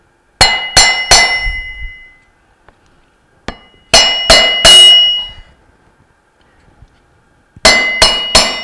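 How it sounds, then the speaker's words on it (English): Hammer striking a wood block set against the impeller of a Bell & Gossett Series 1510 pump, heard as three bursts of three sharp, ringing metallic taps with a lone tap between them; each tap is loud and close, with no talk. "I grab my hammer, and again, a block of wood"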